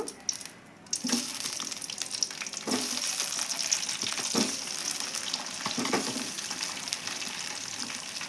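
Tomatoes frying in hot oil in a pan for a sorrel-leaf chutney, with a steady close sizzle and crackle broken by several stirring scrapes, and no voices.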